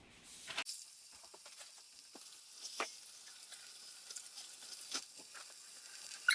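Frozen ground pork browning in a cast iron skillet with olive oil, a soft steady sizzle that starts abruptly, scattered crackles and pops and a few louder spatter bursts, fairly quiet, no talking.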